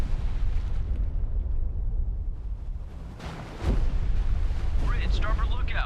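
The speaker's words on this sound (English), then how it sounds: "Ready depth charges." Depth charges detonate in the naval game Destroyer: The U-Boat Hunter, giving a heavy, rumbling underwater boom that swells after a brief lull and rolls on loudly to the end.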